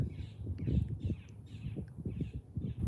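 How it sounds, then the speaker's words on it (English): Crows caw in a steady series of repeated calls outdoors at Lake Okeechobee, spaced evenly over a low rumbling background. "You hear the bird song?"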